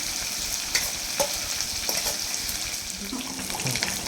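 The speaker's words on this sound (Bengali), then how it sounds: "পরিমাণ মতো আদা রসুন বাটা দিয়ে দেওয়া হচ্ছে।" Ginger garlic paste frying in a pan with a steady hiss and sizzle, a few sharp stirring knocks scattered through, close and unaccompanied by speech.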